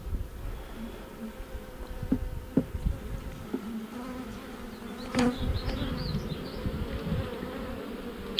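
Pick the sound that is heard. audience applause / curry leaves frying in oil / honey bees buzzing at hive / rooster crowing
honey bees buzzing at hive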